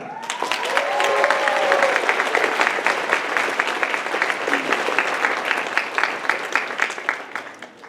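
Loud, sustained audience applause for voice actor Toru Furuya at the Anime Central 2017 closing ceremonies, dense clapping from a large crowd that holds steady and then begins thinning toward the end.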